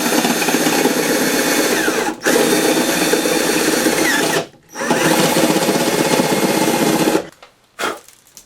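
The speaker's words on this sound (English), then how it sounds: "So I'm going to apply pressure going this way as I drill in." Power drill boring a hole while building a portable 420-watt solar generator: loud, steady whirring drilling in three long runs, with brief stops between, and a short burst at the end, no talking.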